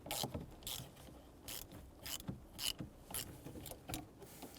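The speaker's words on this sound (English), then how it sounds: "Use a 10mm socket, loosen up the negative terminal" A 10mm socket ratchet loosens the negative battery terminal of a 2005-2010 Chevrolet Cobalt, giving rapid close clicking in quick bursts alone.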